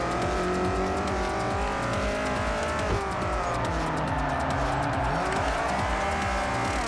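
Race car engine roaring and tires sliding in the Forza Motorsport 4 racing game, a steady loud engine drone with shifting pitch throughout, alone without talk.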